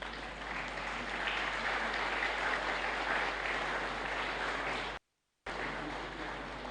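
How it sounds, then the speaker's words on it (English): Sustained clapping from the audience at a memorial lecture welcomes St. Teresa's Minor Seminarians, an even wash of hands that briefly cuts out to silence near the end before resuming. "Please stand and let us welcome you and clap for you"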